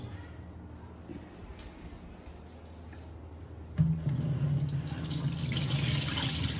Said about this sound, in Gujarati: હવે આપણે આ દાળ ચોખામાંથી પાણી અલગ કરી લઈશું